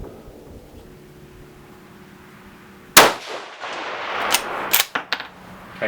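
A single loud 6 BRA rifle shot fired at a 200-yard target rings out sharply after a quiet stretch, followed by a lingering echo and a few clinks of handling.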